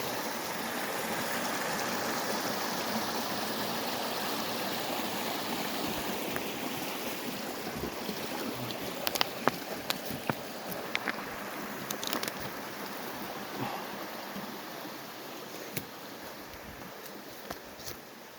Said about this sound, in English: Awesome view right here at the creek.